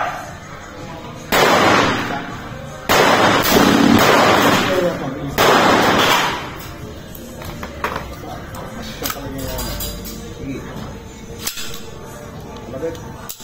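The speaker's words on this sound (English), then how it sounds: "Firing!" A CZ Scorpion EVO firing outdoors in three loud, harsh bursts of a second or more each, separated by short pauses, followed by quieter handling noise, with people talking.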